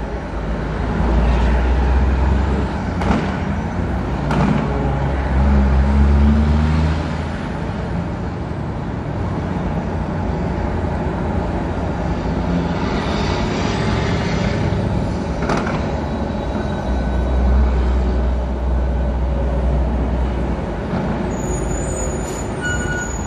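A Freightliner Classic semi truck rolls loud through traffic, its diesel engine a steady heavy rumble with deeper low surges rising and falling throughout, close and continuous with no talking.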